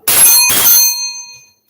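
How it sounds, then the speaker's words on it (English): A bell rung once to mark the end of time at a school inter-house poem recitation competition, a loud bright metallic ring with two quick strikes that sustain and fade out over about a second. "aduga final bell na"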